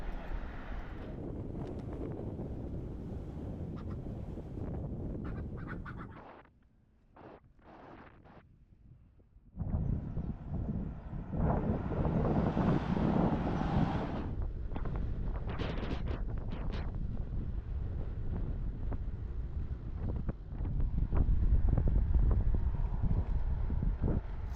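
Strong headwind roaring across the microphone while cycling downhill through a valley in the Pyrenees, with loud continuous buffeting that drops out briefly midway and then returns even harder.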